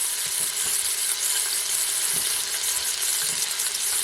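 Beef browning in a pan for a beer-braised beef stew, a steady dense sizzle of frying held at the same loud level throughout, with faint scrapes and stirring knocks underneath.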